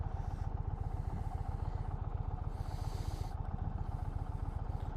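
A 2020 Indian Challenger motorcycle under way on the road, its engine a steady low rumbling pulse with wind and road noise swelling over it, continuous and close.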